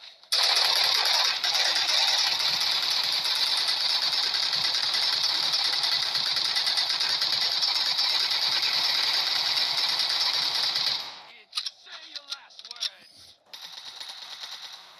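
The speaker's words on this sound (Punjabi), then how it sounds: "ਇੱਕ ਵਾਰੀ ਫੇਰ ਕਰੀਏ ਹਵਾਈ ਫਾਇਰਿੰਗ," Sustained automatic fire from a video-game machine gun shot into the air forms a dense, loud, continuous rattle lasting about ten seconds. It then stops abruptly and gives way to scattered, quieter sounds.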